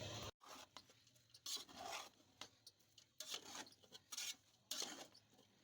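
A spoon stirs chicken fried rice in a pan with a series of quiet, close scraping and rubbing strokes, irregular in rhythm, with no one talking.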